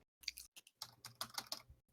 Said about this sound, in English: My keyboard's doing a weird thing.